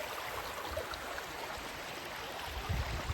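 Clear, cold mountain stream water rushes steadily over stones along a steep hiking trail in Rogaland, Norway, a constant broadband wash with no pauses and no voices.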